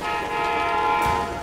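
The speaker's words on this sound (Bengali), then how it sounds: "সামনে থেকে আরেকটা ট্রেন আসছে।" A train horn blares in a steady loud tone over the rumble of an approaching train, close by and continuous for the whole short moment.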